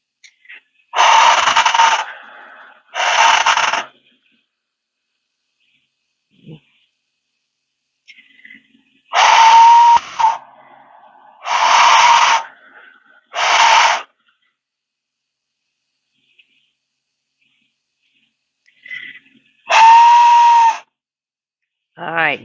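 A handmade death whistle is blown in six harsh, rasping, scream-like blasts, each about a second long, separated by quiet gaps with faint handling and workshop noises between them.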